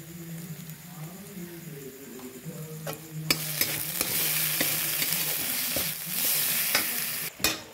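Ginger-garlic paste with pepper and cumin powder sautéing in a pan, a low hum giving way to a louder hiss and sizzle with sharp spatula clicks and scrapes while it is stirred.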